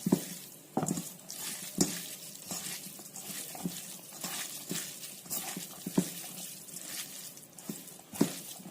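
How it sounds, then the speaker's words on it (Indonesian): Sate lilit mixture, a Balinese minced meat mix, is stirred in a bowl, giving soft, wet squelching and scraping sounds in an irregular rhythm, close and fairly quiet. "Terus kita aduk. Sampai dia semuanya tercampur dengan rata."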